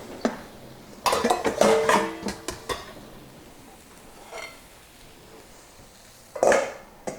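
Kitchen clatter of a bowl being taken out among pots, pans and cutlery: a cluster of clinks and knocks early on, a quieter stretch, then another sharp clatter near the end.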